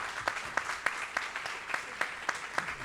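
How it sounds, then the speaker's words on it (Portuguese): Audience applause welcoming writer Lília Guerra onto an outdoor square stage: a faint, steady patter of clapping with some sharper individual claps scattered through it. "Palmas para Lília"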